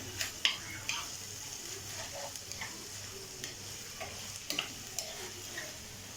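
A spoon stirs fava beans and onions sizzling in a pot, a quiet continuous frying hiss broken by scattered scraping clicks, with no talk.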